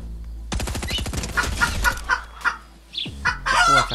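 Chicken in the video game Fortnite clucking and squawking in quick repeated bursts, loud and close, with a brief pause before a final flurry of calls, no talking.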